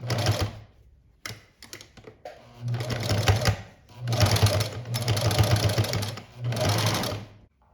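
A sewing machine topstitching fabric for a small cloth reliquary runs in several close bursts of rapid mechanical stitching, broken by short pauses between runs.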